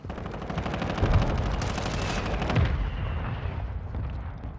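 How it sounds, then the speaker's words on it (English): Mortar strike explosions in a first-person shooter video game, with repeated booming gunfire-like blasts and rumbling impacts rolling on throughout, loud and dense, with no speech. "Hostile mortar strike near your position."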